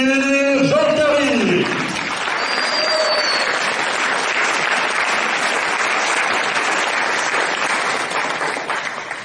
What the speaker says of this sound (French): Merci d'applaudir Lubomir Jean-Carry.